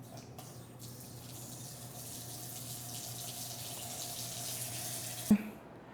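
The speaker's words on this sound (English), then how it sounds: "And now the water should start back." Water runs steadily from a household tap after the shutoff valve is turned back on, a continuous hiss and rush with no talking, ending in a brief knock as the flow stops.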